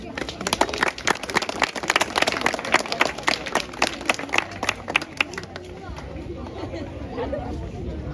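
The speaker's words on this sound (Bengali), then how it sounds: "আমি সবাইকে বলবো এখানে যারা উপস্থিত আছেন এই বৃষ্টির জন্য একটা হাততালি দিতে" An audience applauds at a felicitation event for an India's Got Talent winner, with steady, dense clapping and crowd chatter that fades out toward the end under a faint murmur.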